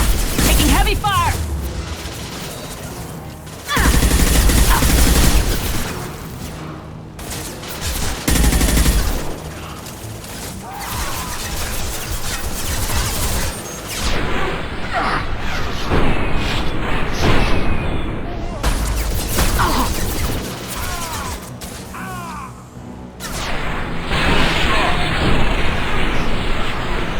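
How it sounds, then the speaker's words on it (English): Sustained heavy gunfire in the shooter Mass Effect 2, dense rapid bursts and booming impacts filling the whole stretch, loud and close, with brief lulls and voices calling out in between. "Taking heavy fire!"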